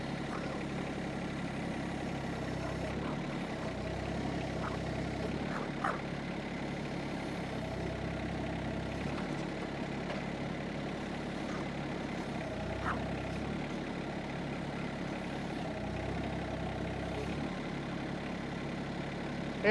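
A tractor engine idles steadily at a low rumble with a faint rhythmic pulsing, moderately close and unchanging throughout, with no talking over it.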